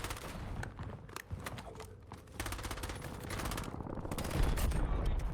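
Gunfire in the video game Call of Duty Warzone during a college esports championship match: rapid bursts of shots and automatic fire crackle continuously throughout, growing louder with a heavier low rumble near the end.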